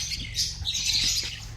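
A parrot gives a few harsh, raspy squawks over a low steady hum, fairly faint and brief.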